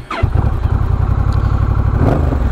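Honda Rebel 1100 motorcycle fitted with a Coffman's shorty exhaust, revving hard and close with a deep, throaty, pulsing roar that holds steady with brief throttle blips, no talk over it.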